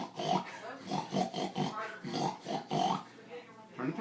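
A voice imitates a pig with a series of rough, nasal grunting oinks in an uneven rhythm, quiet and close, continuing over four seconds.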